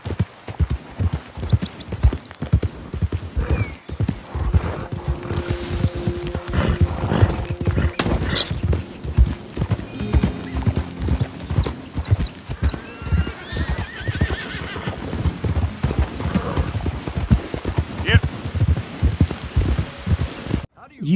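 A male piebald tobiano Hungarian Halfbred horse in Red Dead clip-clops steadily on hooves throughout, with a few whinnies and snorts and a soft rain-like patter underneath.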